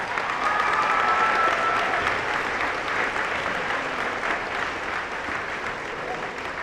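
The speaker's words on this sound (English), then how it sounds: "Let's give them another nice round of applause." Audience applause fills a high school senior honors convocation hall, a dense, steady wash of many hands clapping that holds strong throughout and eases slightly toward the end, with no talk over it.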